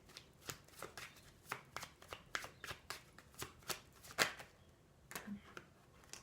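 Oracle cards are handled and flipped over in a quiet series of soft, crisp snaps and slaps, about a dozen close taps at an uneven pace with no talk.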